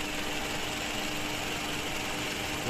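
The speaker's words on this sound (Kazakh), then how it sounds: "Мотордун үнүн угуп турасыздар." A Toyota Camry 2.5 engine idling steadily, a continuous even hum heard close and alone without talk.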